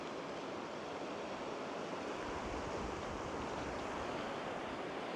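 Steady broadband rush of a flood-scoured Nolichucky River near the Chestoa Bridge site, wind-buffeted and continuous, loud and unbroken for the whole stretch with no voices.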